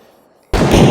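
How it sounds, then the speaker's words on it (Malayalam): Gunfire from the Squid Game video game's red light, green light round bursts in suddenly after near silence, a loud dense barrage of shots that fills the rest of the moment. "കുറേ വെടി ശബ്ദമൊക്കെ കേൾക്കുന്നുണ്ട്"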